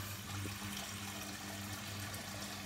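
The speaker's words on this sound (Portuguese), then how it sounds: "Vamos encher a minha panela de água." Tap water runs steadily into a cooking pot in a home kitchen, a continuous low rushing fill with a faint hum, heard alone without talk.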